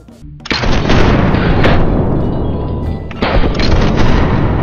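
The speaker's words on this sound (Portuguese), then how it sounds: "Caralho, Jonas, você levou um tiro na cabeça." Heavy gunfire booms loudly in a game, a sustained roar of shots cutting off briefly before another burst kicks in.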